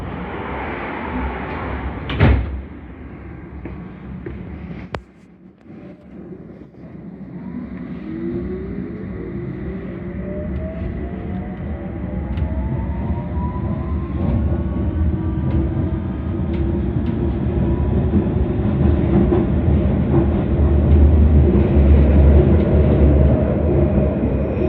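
A London Underground District Line train to Richmond pulls away from Hammersmith, starting with a door clunk and thud, then a rising electric motor whine and steady wheel rumble that build louder as it accelerates.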